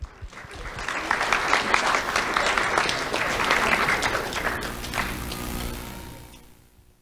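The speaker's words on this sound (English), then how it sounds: "Let's have a round of applause for Ivan Peralta." An audience at a school awards ceremony applauds a young award recipient with sustained, dense clapping that swells, holds for several seconds, then tapers off.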